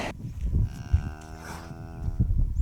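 A cow lets out a long, clear moo, rising and falling in pitch, fairly close, on a bay on the Isle of Bute, Scotland, with faint outdoor background noise around it.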